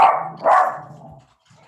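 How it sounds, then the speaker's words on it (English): A dog barks twice in the background of a Senate Finance meeting: a loud bark, a short pause, then a second bark that trails off into quiet. "Somebody's dog's not happy."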